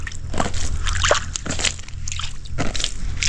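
Water being emptied out of a container at an off-grid cabin, repeated sloshing and splashing pours in uneven bursts, close and fairly loud.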